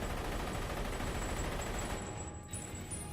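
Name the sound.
gunfire in a film scene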